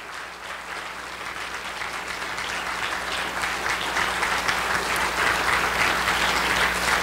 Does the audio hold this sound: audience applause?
yes